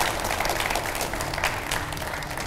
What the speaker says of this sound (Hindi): और मैं चाहूंगा उतनी ही गर्मजोशी से एक बार फिर इन सब के लिए भी तालियां बजाए जाएं।